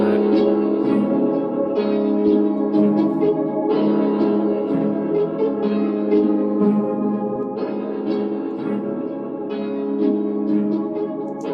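A sustained trap melody drenched in heavy, spacious cathedral-preset reverb, notes blurring into a long, echoing wash that hangs in the air, with no one speaking.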